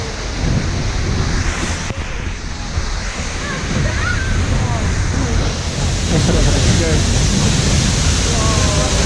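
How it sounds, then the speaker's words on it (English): Water sprays over the bow of a cruise boat on Milford Sound, heard as a loud, continuous rushing wash mixed with wind buffeting the microphone for the whole stretch, with no clear pauses. "Whoa, spraying with water."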